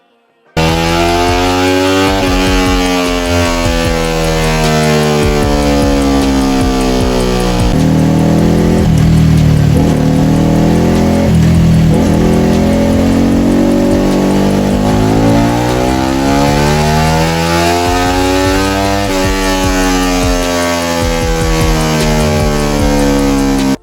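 A Yamaha Vixion NVL 150cc motorcycle engine with ported head and BRT Juken ECU revs hard and continuously on a dyno at close range, its pitch climbing and falling through repeated sweeps over a long stretch.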